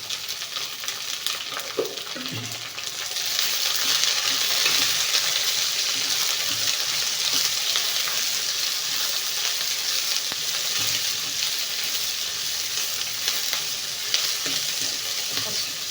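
Chopped onion hits hot oil already holding mustard seeds, urad dal, cumin, dried red chillies and garlic, bursting into a loud, steady sizzle that carries on with a few faint stirring scrapes and no voices.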